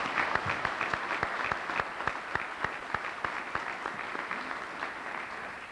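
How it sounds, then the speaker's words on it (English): At a fraternity's 50th anniversary celebration in a university student center, a small audience claps, the individual hand claps distinct and fairly regular over a soft background, moderate in volume and sustained. "They need a round of applause."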